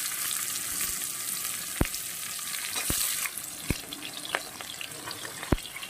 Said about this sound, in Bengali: এই পর্যায়ে আমি দিয়ে দেব কেটে বেছে রাখা পেঁয়াজ